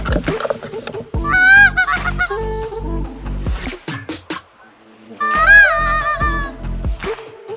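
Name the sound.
wild geese honking as they fly over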